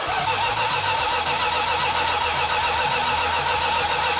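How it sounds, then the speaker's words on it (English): A 1971 Plymouth Cuda convertible engine cranking over without firing, a steady continuous mechanical whir-and-churn held at close range with no catch or rev-up. "So when we initially tried to start cranking the engine over, we had a nice fuel leak."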